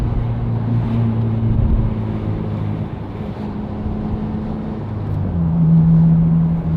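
An 8th gen Honda Civic fitted with a short shifter drives along, its engine droning low and steady with pitch shifts as gears change, under wind and road noise throughout.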